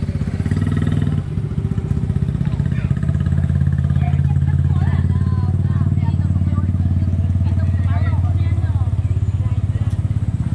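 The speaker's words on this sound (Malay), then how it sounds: "Naik motor boleh asyik selit lagi." A motorcycle engine hums steadily up close for the whole stretch, with a brief dip early on and people talking over the ride.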